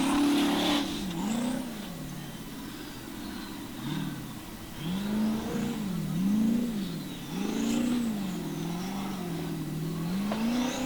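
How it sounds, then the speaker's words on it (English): Formula Offroad competition car powered by a Chevy Silverado pickup engine, revving hard in repeated rising and falling surges, loud and close, with a faint voice in the background. "And I think it's an engine from a Silverado pickup Chevy."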